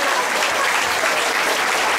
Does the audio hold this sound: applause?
yes